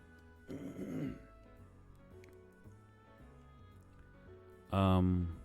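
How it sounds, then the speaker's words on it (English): Two rough, throaty coughs, one early and one louder near the end, with quiet background sound between them. "Sorry if I'm coughing a lot."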